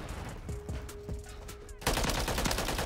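Holger 556 assault rifle gunfire in Modern Warfare 3, a few separate shots followed by a dense, loud burst of rapid fire near the end, over game background noise.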